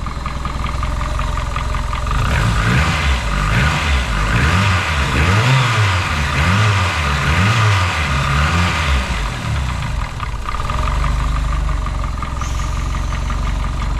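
A Ford Escort RS Turbo engine on MaxxECU management, being set up with the idle control valve not yet configured, runs close by, idling and then blipped through several rhythmic revs before settling back to a steady hum.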